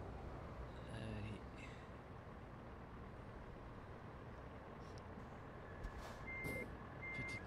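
Truck reversing beeps from a trucking video game, a few short high pips heard late in the clip over a steady engine rumble, with a voice talking briefly near the start.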